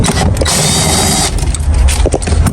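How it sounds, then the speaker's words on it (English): A ratchet wrench loosens 12 mm bolts holding a Lexus leather car seat. It gives a steady, fast, loud clicking run for about a second, then slower, irregular turns and clunks close by. No one speaks. "So we're gonna take those bolts out"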